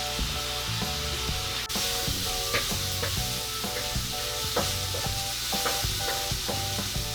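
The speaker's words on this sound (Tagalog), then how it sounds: "At hintayin po natin na medyo mag-light brown ang ating bawang." Garlic sautéing in a small amount of oil until light brown, a steady close sizzle and hiss with frequent light stirring clicks and taps throughout.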